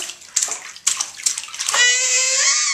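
Water splashing in a bathtub with bath toys, a few sharp splashes and sloshes in quick succession followed by running, pouring water, close and fairly loud, with no talk over it.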